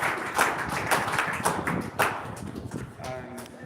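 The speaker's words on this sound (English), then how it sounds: "just give yourself a round of applause for being here today." Applause from a crowd, a steady wash of many hands clapping at moderate volume, tapering off toward the end.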